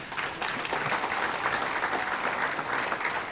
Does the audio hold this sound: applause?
yes